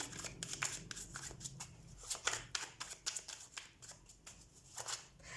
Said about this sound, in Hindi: so let's shuffle your cards